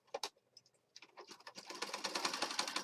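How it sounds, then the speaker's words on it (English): A sewing machine stitches a zigzag stitch on a junk journal, starting with a few scattered mechanical clicks, then settling into a rapid, steady, close-up run of stitching that grows louder toward the end. "So I'm going to start here and stitch down in a zigzag stitch."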